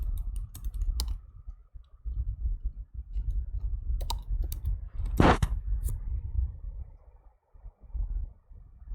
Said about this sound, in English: type in another comment